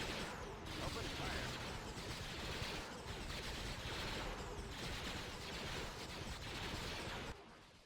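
Units in the Star Wars: Empire at War Thrawn's Revenge mod trade a dense, continuous barrage of blaster and gunfire in a large battle, a constant roar with no clear pauses that cuts off near the end.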